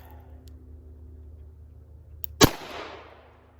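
A single sharp, loud gunshot from a Charter Arms Bulldog .44 Special revolver cracks out of a quiet outdoor range, followed by a short fading echo and low background hum.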